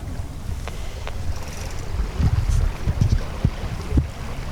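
Wind gusts over a racing sailing yacht on open water, a steady broadband rush with low-end buffeting that swells louder in the second half, alongside water and hull noise.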